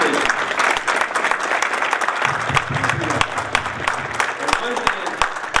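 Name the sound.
board meeting audience applauding trustees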